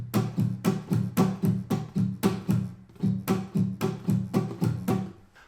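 Acoustic guitar strummed on every up and down stroke with the strings lightly muted by the hand, giving an even, steady train of soft percussive strums played alone, close and fairly quiet.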